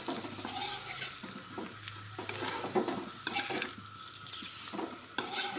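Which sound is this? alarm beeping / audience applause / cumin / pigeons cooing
cumin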